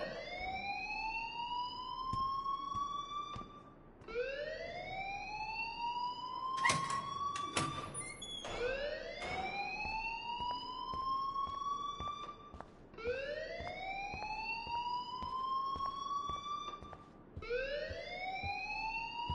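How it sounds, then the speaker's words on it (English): A wailing alarm from the video game Life is Strange sounds loudly and steadily, repeating rising sweeps about every four seconds, with brief sharper bursts in the middle and no talking. "please turn off that alarm since that's your job"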